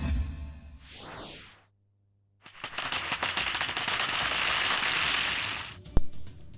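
Diwali firecrackers go off in Delhi: a rising whistle, then a dense string of rapid popping crackles after a brief pause, ending in one sharp, loud bang.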